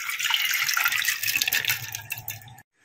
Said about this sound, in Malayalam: പരിപ്പ് ആ വെള്ളത്തോടുകൂടി കുക്കറിലേക്ക് ഇടുവാണ്